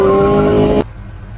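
A cartoon car speeds away, a loud, steady engine roar with a high whine that cuts off abruptly after under a second, leaving a faint background hum.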